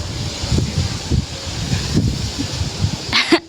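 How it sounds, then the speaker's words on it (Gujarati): Strong wind blows hard against the microphone in rough, gusty low rumbles, ending with a short handling knock. "તમને હું બતાડું કે કેટલી હવા આવેલી"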